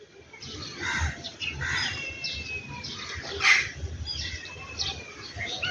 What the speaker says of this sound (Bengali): কিন্তু আজকে অনেক পাখি দেখা যাচ্ছে